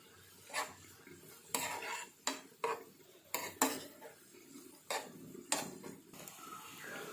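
Coconut, onion and salt stirred in a pan for sardine curry, with soft scraping strokes and occasional clinks of a spoon against the vessel at a slow, irregular pace, close and fairly quiet.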